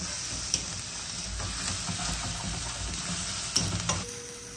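Ginger garlic paste sizzles and crackles steadily in a hot pan, with a few sharp clinks of stirring against the metal and no talking.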